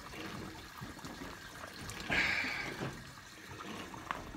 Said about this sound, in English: I hear the water running beautifully